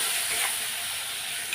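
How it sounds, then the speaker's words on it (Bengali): Ground spices with green chilli paste sizzle and are stirred in a hot frying pan, a steady close hiss of frying with soft scraping, no voices, while a spicy Bengali fish and dried fish curry with taro stolons is being cooked. "এইবার কষিয়ে নেব, এটা কষানোটাই মেন।"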